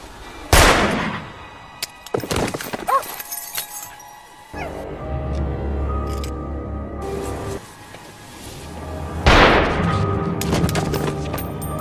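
Pistol gunshots in a film ring out as sharp, loud bangs, several spaced apart with glassy clinks between, then a sustained rumbling passage before a final burst of shots.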